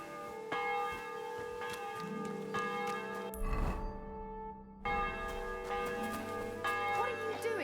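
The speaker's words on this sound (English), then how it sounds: "The bell's ringing for Hans the 5th time." A church bell rings in Kingdom Come Deliverance 2, sustained metallic tones overlapping with resonant hum and a brief rumble mid-way, while a voice speaks faintly beneath the ringing.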